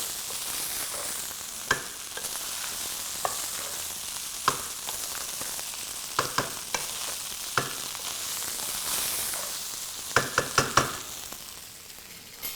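Prawn masala fried rice frying in ghee gives a continuous close sizzle, broken by sharp spatula scrapes and clanks against the pan at irregular intervals.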